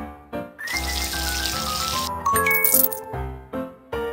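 Water sprays and rinses hair in a cartoon animal hair salon game, a burst of steady splashing hiss mixed with bright game music and chiming notes.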